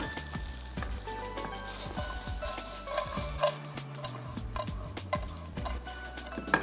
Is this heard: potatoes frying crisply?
yes